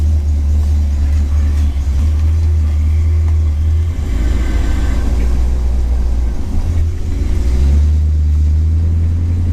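A car with a battery that had been dead sets off on a short drive, its engine rumbling steadily and close with a low, continuous drone that surges slightly as it pulls away, no talking.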